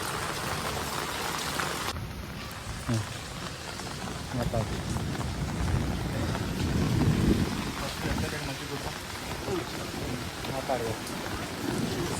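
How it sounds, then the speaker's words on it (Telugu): Steady heavy rain pours down in a continuous broadband wash, with some low rumbling and muffled voices underneath. "ఫుల్ వర్షం పడ్డది ఫ్రెండ్స్ సడన్గా పడ్డది"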